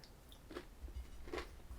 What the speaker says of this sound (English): You can definitely taste the crunch when you bite into it.